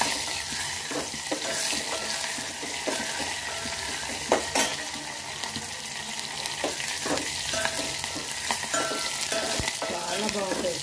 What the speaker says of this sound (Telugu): ఎండుమిర్చి, వేయించుకోవాలి